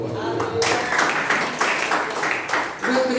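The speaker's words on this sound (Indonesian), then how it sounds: "Tepuk tangan buat Tuhan." Church congregation clapping in praise to God, a lively burst of applause with rhythmic, pulsing claps across the whole moment.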